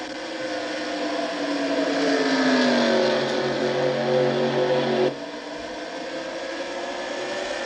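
A stock race car engine in a racing sim, the number 70 car, drones loud and close as its pitch climbs under acceleration, then cuts abruptly to a lower, steadier engine tone for the last couple of seconds.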